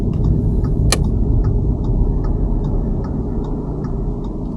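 A car's turn indicator ticks steadily in a regular rhythm during a driving test route, clear and close over the constant low rumble of the engine and road, with one sharp click near the start.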